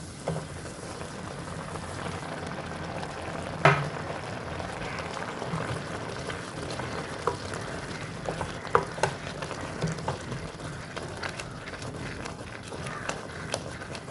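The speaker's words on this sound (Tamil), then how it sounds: "இப்போ நம்ம எடுத்து வச்சுருக்கிற ரவாவை இந்த கொதிச்ச இந்த காய்கறி தண்ணிகளோட சேர்த்துக்க போகிறோம்" Semolina poured into boiling vegetable water and stirred for a quick snack, heard as a steady bubbling, sizzling hiss with scattered clinks and scrapes of a spoon against the pan.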